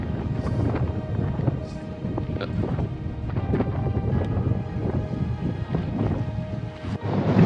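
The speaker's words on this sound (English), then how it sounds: "It's just a little windy up here." Wind gusts across the open shore of Lake Myvatn in icy northern Iceland, a steady rough buffeting roar with irregular gusts striking the microphone throughout.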